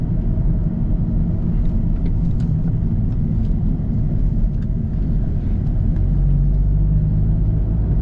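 A salvage BMW Z4 is driven through small villages, giving a steady low engine and road rumble heard from inside the car, with no talking.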